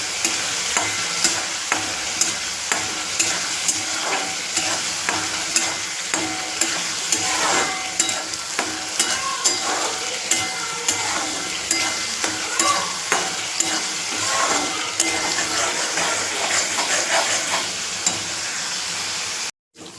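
Spice masala sautéing in a pan for Marathi-style spicy patwadi bhaji, a steady loud sizzle with regular scraping stirs of a spoon against the pan, ending abruptly.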